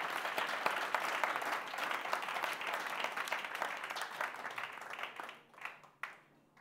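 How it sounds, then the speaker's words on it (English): A conference audience claps in a sustained, fairly distant round of applause that thins out and trails off into a few scattered claps near the end. "Somebody wants to clap and somebody stop."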